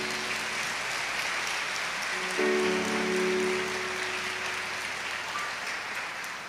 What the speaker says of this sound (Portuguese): Vamos aplaudir o Evangelho de Jesus.